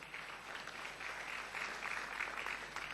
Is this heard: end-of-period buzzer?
no